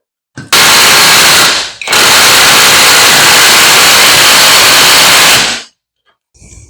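An impact wrench hammers a nut through a hex impact socket on a Titan adapter in two loud bursts, a short one and then a longer sustained rattle, ending abruptly into quiet.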